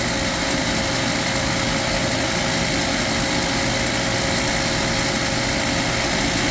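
A refrigerant recovery machine running during an air-conditioning system recovery, giving a loud, steady mechanical whine and hum that continues unbroken.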